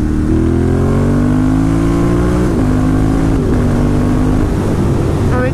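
A Ducati motorcycle fitted with one exhaust baffle revs hard in third gear, its loud, close engine note climbing steadily with a brief dip mid-run and no voices over it.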